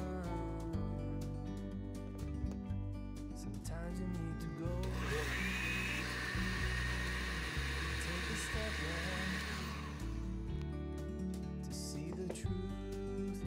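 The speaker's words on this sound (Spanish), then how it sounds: "vamos a licuar" A blender whirs through coconut atole ingredients in one loud, steady burst of about five seconds, set against continuous background music.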